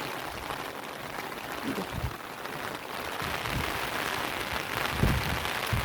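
Heavy rain with strong wind over flooded roads and fields in the morning, a constant hissing wash of rain and gusts with scattered louder drops, steady and fairly close, no voices.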